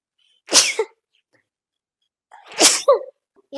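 Two sharp, loud human sneezes a couple of seconds apart, close up and alone, the second followed by a short gasp.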